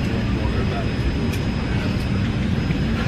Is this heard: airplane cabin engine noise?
yes